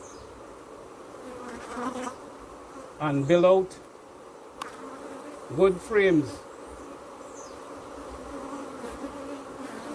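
Honeybees buzz steadily around brood frames in an open hive, a close, continuous hum with a few louder passes, while someone speaks intermittently over the buzzing.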